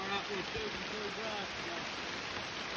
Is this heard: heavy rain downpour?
yes